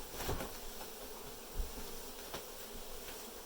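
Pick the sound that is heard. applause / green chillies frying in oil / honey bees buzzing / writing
honey bees buzzing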